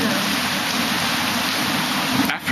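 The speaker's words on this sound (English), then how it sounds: "I see the rain down in Africa." Summer rain in Johannesburg, South Africa, falls as a steady, loud, dense hiss of downpour, unbroken throughout with a brief dip at the end.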